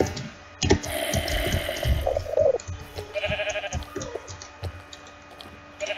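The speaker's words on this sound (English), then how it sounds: "I don't wanna shoot you, sheep." Sheep bleating in the Minecraft video game, with a few short bleats mixed among game effects and a running-water sound, at moderate loudness.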